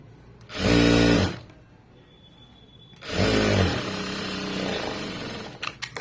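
A sewing machine stitches a blouse seam in two bursts, the first about a second long and the second running longer, separated by a quiet pause, with small handling clicks near the end.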